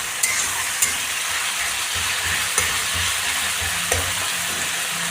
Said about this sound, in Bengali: একটু ভালোভাবে ভাজাভাজি হয়ে যাক,